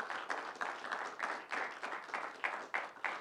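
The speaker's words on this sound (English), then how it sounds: "if we could have a big round of applause for all three judges" An audience at a college idea pitch competition gives applause for the judges, with fairly light clapping that comes in uneven bursts and sounds somewhat distant.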